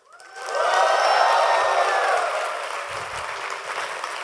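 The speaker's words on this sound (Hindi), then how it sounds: "तो एक बार जीडीजी इंडोर के लिए शाउट और तालियां जोर से हो जाए।" A large audience at a developer community tech conference breaks into loud applause mixed with cheering and shouts. The noise swells quickly, holds strong, then slowly tapers while the clapping goes on.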